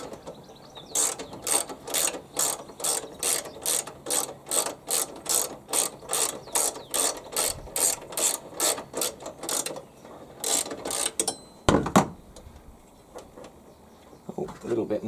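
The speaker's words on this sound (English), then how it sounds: "So we'll start by undoing this little 10mm bolt. So I've got a socket here." A socket ratchet undoing a 10mm bolt on a steel bracket on a HYM510SPE gearbox, giving a long series of rhythmic clicking strokes, close and clear, ending with a clunk and a brief pause.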